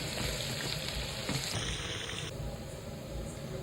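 Whole spices and ground garlic fry in hot oil for a prawn masala, giving a steady, soft hissing sizzle throughout, faint and even, with no speech.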